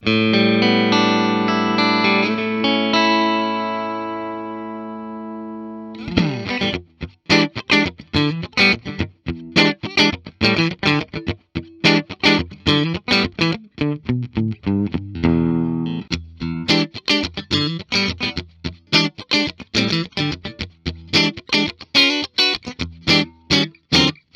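Ibanez Ichika Nito ICHI10 headless electric guitar on its middle pickup in the down position, played through effects with distortion and chorus: a sustained ringing chord fades, then a run of crisp, rhythmic plucked notes and chords continues alone.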